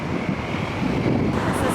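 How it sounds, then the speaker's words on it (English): Steady low rumbling wind buffeting the microphone outdoors, a constant blustery roar with no pauses. "it's so windy"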